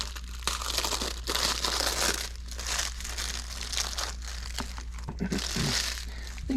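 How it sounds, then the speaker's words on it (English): Crinkly plastic wrappers of frosted strawberry Pop-Tarts being torn open, with steady crackling and crumpling at close range over a constant low hum, with no talking. "These are the frosted strawberry Pop-Tarts, and we're just going to open them up and cut each Pop-Tart in half."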